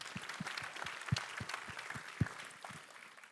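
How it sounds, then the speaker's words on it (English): Faint, distant applause from a conference audience at an opening welcome session, a soft, thin patter of clapping with a few heavier, irregular thumps scattered through it. "So maybe a little applause for them as well."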